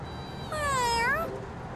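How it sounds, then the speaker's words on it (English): A single drawn-out cat meow, rising then falling, clear and fairly close over a low background hum, heard alone without talk. "Does C2 not like cats?"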